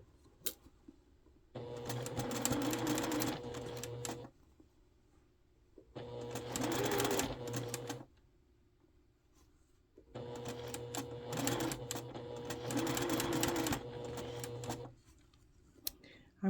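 Sewing machine stitching curved quilt block pieces, three runs of fast steady mechanical whirring separated by pauses, close and clear while a voice talks softly in the quiet gaps.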